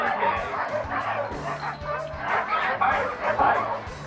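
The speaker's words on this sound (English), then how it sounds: "it is all he can do to hang on before turning his dog team loose" An Alaskan sled dog team, hitched to a motorless ATV in summer, barks and yips excitedly in a dense overlapping chorus close by, with voices mixed in.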